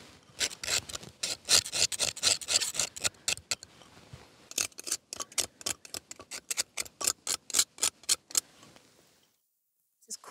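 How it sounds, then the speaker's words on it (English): A flaky coating is scraped off a surface in quick repeated strokes, first a dense run of close, crisp rasps, then slower evenly spaced scrapes, ending in a brief pause. "Scrapes off quite well."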